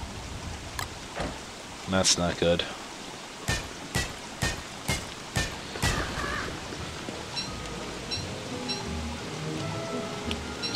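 Rain falling in the video game Don't Starve, a steady hiss under someone talking, with a series of sharp, evenly spaced thumps or clicks in the first six seconds.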